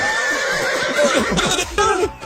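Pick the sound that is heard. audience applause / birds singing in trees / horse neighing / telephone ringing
horse neighing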